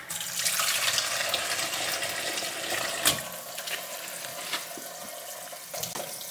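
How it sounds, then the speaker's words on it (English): Pork neck bones being washed in a sink of water with vinegar, a steady rush of running and splashing water close by, with a few sharper sloshes and knocks and no talking. "the first thing you do is wash your neck bones. Put them in some water."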